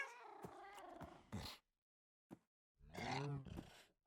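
Tamed cats in Minecraft meow in short bursts, a few close drawn-out cries separated by silent gaps, no talk.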